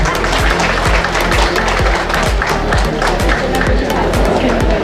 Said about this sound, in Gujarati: તાળીઓના ગડગડાટથી.